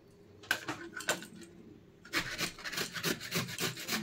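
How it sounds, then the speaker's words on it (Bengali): Fresh coconut being grated by hand into small shreds, a run of close, rhythmic rasping scrapes that start in scattered strokes and then settle into a steady, continuous back-and-forth grating. "নারকেলও কিন্তু আমি ছোট ছোট করে গ্রেট করে নিচ্ছি"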